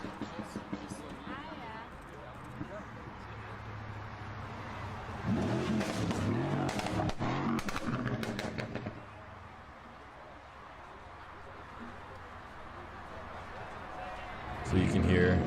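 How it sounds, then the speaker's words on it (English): A Mercedes CLS 63 AMG (C218) burbles quietly at first, then a loud rev midway brings a cluster of sharp exhaust crackles before it settles back to a low idle rumble and swells again at the end. "So you can hear lots of burbling."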